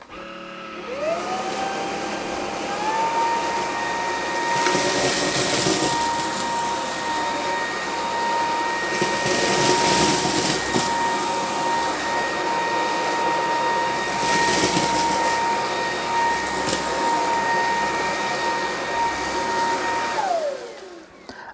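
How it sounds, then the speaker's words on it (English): A Kalado KCV01 cordless vacuum cleaner whirs up to a steady high-pitched whine on high suction over carpet, running continuously and close, then winds down at the end. "it almost pulls the vacuum cleaner into the carpet"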